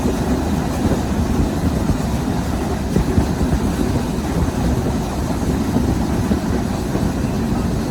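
A train from Dhaka to Chapai Nawabganj, Bangladesh, rumbles steadily along the tracks with a low, continuous rattle and faint rhythmic clatter, heard from inside or close by.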